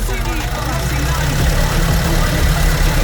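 A Nissan NV350 Urvan van engine held at about 1,000 RPM, giving a loud, close, steady low rumble with a faint knocking texture. Someone talks over it.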